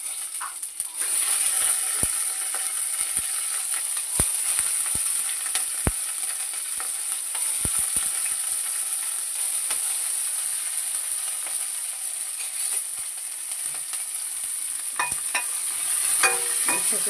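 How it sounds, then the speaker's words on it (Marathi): Green chillies and mustard seeds in hot oil for kanda poha give a continuous bright sizzling hiss, broken by scattered sharp spluttering pops throughout. "सगळं व्यवस्थित मिरची जरा असं फटफटायला लागली आणि मोहरी आणि जिरा"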